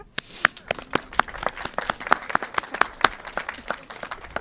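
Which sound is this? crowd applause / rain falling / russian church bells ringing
crowd applause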